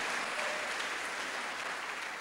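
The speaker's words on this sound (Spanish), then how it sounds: "Vamos a darle un aplauso bien fuerte al Señor" A church congregation applauds its praise to the Lord, a loud, sustained wash of clapping that stays steady from start to finish with no pauses.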